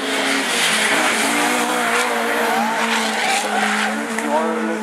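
Rallycross race cars in a Division 4 event at Lessay skid and squeal their tyres around the track, a steady loud roar of engines and sliding rubber with commentary talking over it throughout.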